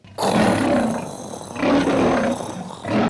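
A close, loud lion-like roar in two long growling bursts, with a third cut short at the end. It is a voice imitating the roar.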